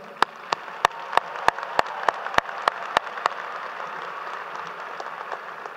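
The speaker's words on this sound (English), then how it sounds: "Please join me in applauding our distinguished guests." Applause from an audience at a university commencement ceremony, a handful of sharp, evenly spaced claps standing out near the microphone over a softer, steady wash of clapping from a large hall.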